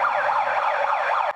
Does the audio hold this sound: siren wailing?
yes